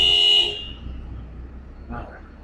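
A car horn toots briefly amid blocked city street traffic, heard from a hotel rooftop terrace, with steady road noise and a fainter second honk after a pause.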